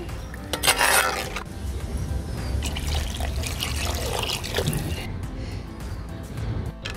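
Water pours steadily into a cooking pan of chicken curry, a continuous splashing trickle that fills the whole stretch at close range, with a louder gush near the start.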